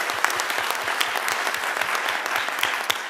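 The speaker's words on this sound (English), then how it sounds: "So a round of applause before I even introduce them." During a public commission meeting, the people in the room break into steady applause. Individual hand claps are distinct within the continuous clapping, which runs for about three seconds without speech.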